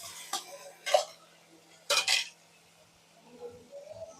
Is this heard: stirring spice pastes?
yes